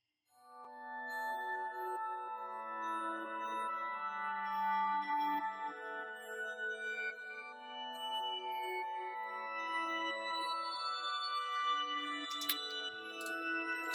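A soft, sustained Omnisphere synth pad from the Fields of Glass textures shimmers quietly by itself, slowly shifting chords with a glassy, airy tone and a few faint bright glints near the end.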